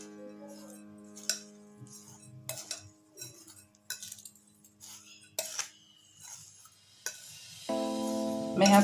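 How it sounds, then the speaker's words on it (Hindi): A spoon stirs and mixes khoya filling with cardamom powder for Holi gujiya, producing light scattered clinks and scrapes against a metal bowl, ending in a louder sustained tone. "आइए अब हम इन सबको मिक्स कर लेते हैं।"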